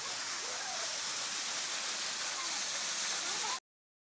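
Water pours down from a mountain at the Gundicha waterfall in a steady, dense roar that fills the scene, loud and continuous until it cuts off abruptly.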